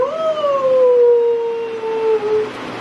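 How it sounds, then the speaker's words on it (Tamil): A dog gives one long, mournful howl that slowly slides downward in pitch and fades away. It is loud and sustained, with nothing else around it. "தூரத்துல ஒரு நாய்"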